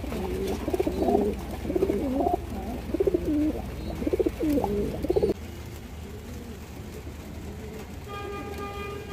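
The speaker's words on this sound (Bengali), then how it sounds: "আজকে ভিডিওটা এখানে একটা পেয়ার আছে অ্যালুমিনিয়াম সিলভার কবুতর দর্শক" A pair of aluminium-silver pigeons and a pair of silver-khaki pigeons, currently feeding their young, coo in repeated close throaty bursts for about five seconds, then go quiet under a steady background hum.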